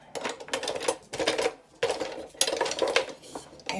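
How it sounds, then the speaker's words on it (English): Metallic clinks and scraping as a can of apple pie filling is opened, several short bursts of clattering with brief gaps, close and moderately loud, no talk. "Then I'm going to open up my can of apple pie fillings"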